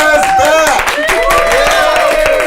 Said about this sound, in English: Give a round of applause for Yaz